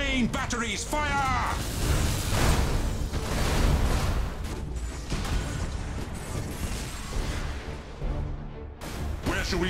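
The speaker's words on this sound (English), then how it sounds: "Main batteries, fire!" Warship main batteries firing in the Battlefleet Gothic space strategy game, Imperial Fists against Orks: dense, continuous booming and crashing cannon barrages with a layered roar of battle effects running throughout, under spoken game voice lines.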